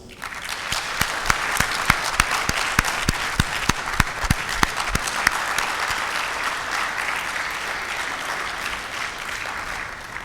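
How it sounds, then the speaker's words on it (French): A large audience at a formal French political event honouring the prime minister breaks into applause, a dense sustained clatter of many hands with sharp individual claps on top, building quickly and slowly fading toward the end. "nous allons le saluer avec toute l'énergie et la chaleur de nos applaudissements"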